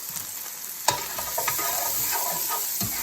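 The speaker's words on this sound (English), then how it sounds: "Gonna saute that a little bit." Onions, garlic and sun-dried tomatoes sauté in a pan for a chicken Alfredo sauce, giving a steady close sizzle broken by a few sharp scrapes and clicks of stirring.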